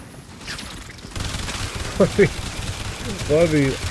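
The Coda Hema weapon fires rapidly in Warframe, with a boosted fire rate. Bursts of mechanical shots come in quick clusters under the game's background sound, and a voice briefly talks at the start.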